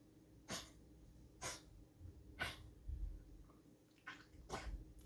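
A pet dog snorts and huffs in a series of five short, sharp breathy bursts about a second apart, fairly faint and a little distant, over a quiet room.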